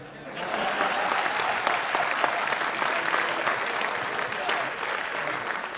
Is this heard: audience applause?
yes